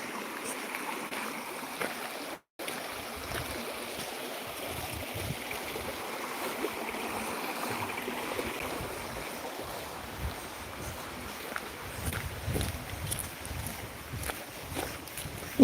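A river stream flowing through Devon woodland, refilled after a long dry spell, giving a steady, moderately quiet broadband rush of running water that continues throughout with only a brief dropout.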